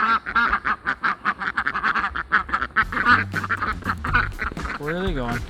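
A flock of ducks quacks in rapid, rhythmic bursts close by, with a voice speaking among the calls toward the end.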